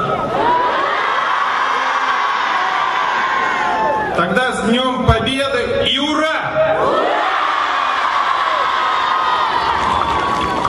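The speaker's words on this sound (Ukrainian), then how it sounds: "Діти, ви вмієте громко і побідно кричати Ура!" Children shout a loud, triumphant hurrah together at a Victory Day celebration, a burst of crowd cheering that rises in the middle and fades back into the hall's steady noise.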